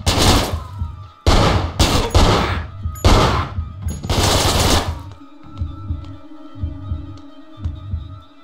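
Gunfire in the stealth game Manhunt: several loud, heavy blasts in quick succession, followed by a low, throbbing pulse that repeats steadily like a heartbeat.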